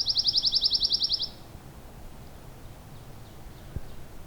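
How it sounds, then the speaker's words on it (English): A red-breasted nuthatch calls in a rapid, high, evenly pulsed trill lasting about a second, clear and fairly near, then fades into quiet outdoor ambience with a soft distant echo of the call. "I think I heard redbreast nuthatch too"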